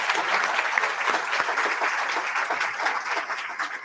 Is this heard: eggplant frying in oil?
no